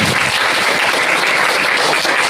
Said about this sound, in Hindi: खुशी वाली ताली बजा लो आप